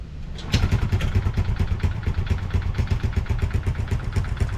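A Honda RS 125 motorcycle engine damaged in a flood idles close by with a metallic, rattling clatter, a rapid uneven beat that continues steadily after it starts up, no talking.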